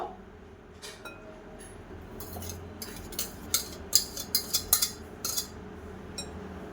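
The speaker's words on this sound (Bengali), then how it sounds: "দিয়ে এবার ভালো করে মিশিয়ে নেব" A spoon clinks repeatedly against a bowl while mango pulp is stirred into cake batter, a run of sharp metallic taps clustered in the middle, close and fairly quiet over low background hum.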